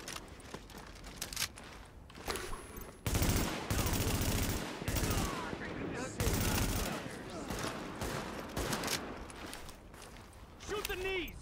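Gunfire in The Division game crackles in repeated loud bursts of automatic fire with quieter gaps between them, while voices talk over the shooting and footsteps shuffle in between.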